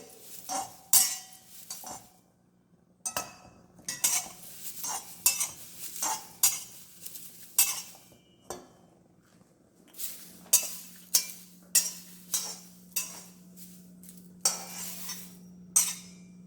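Dry spices for sambar powder rattle and crackle as they're roasted and stirred in a pan, a steady series of scraping, clinking strokes with brief pauses and a faint background hum.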